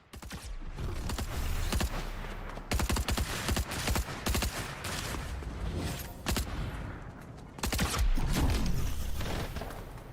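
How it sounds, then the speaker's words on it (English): Sustained gunfire in a video game, a dense crackling fusillade of rapid shots rolling on for the whole stretch with brief gaps, loud and close, no voices. "Who's over there just shooting at things?"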